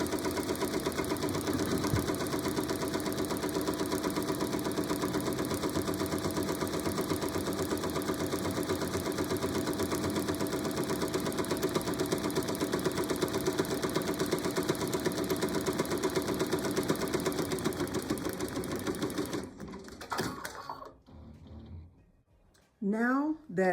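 Home embroidery machine stitching a pocket pouch design, a steady loud mechanical hum and rapid needle chatter lasting about twenty seconds before stopping, followed by brief handling noises.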